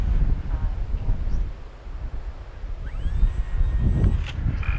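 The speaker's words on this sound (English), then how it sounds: "Oh, that wind is terrible." Wind blowing outdoors during a model plane landing, a steady low rumbling buffet across the microphone, loud and gusting, with a voice speaking briefly.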